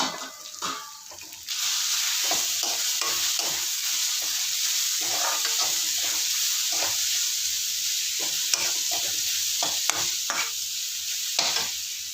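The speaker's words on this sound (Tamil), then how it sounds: "கொஞ்சம் பொரியட்டும் எண்ணெயில்." Grated raw mango stirred in hot frying oil for mango rice, a continuous close sizzle with repeated scraping stir strokes, loud and steady after a brief quieter start, no talk.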